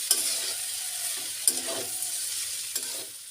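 Potato and eggplant fry in a pan with a steady soft sizzle, broken by a few sharp scraping stirs of the spoon, close up with no talk.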